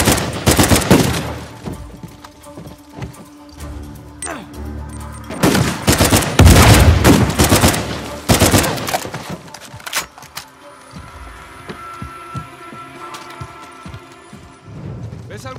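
Bursts of gunfire from Uncharted 4, with dense fusillades and several sharp shots spread across the clip, loudest in the middle, mixed with game effects and background noise.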